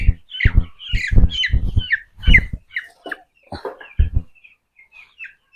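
Squawking of a 12-day-old broiler chicken handled for weighing on a poultry farm: a run of loud, harsh close-up bursts, then fainter scattered calls.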